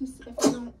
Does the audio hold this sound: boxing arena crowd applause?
no